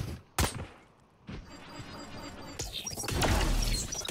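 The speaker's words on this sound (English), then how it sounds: "Flashbang." A flashbang grenade going off in a video game: a sharp bang early on, then a second hit and a rising loud blast with ringing, crashing noise, with no speech over it.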